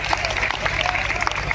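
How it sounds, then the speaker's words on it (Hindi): Crowd clapping at a wrestling bout stage in Ghazipur, a steady continuous patter of many hands spread over the whole moment, mixed with murmuring voices and general crowd noise. "ताली बजाइए।"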